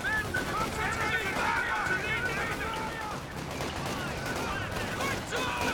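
Rapid gunfire and explosive bursts from a World War II battle in the video game Company of Heroes 2, continuous and dense, with shouted soldier voices mixed in throughout.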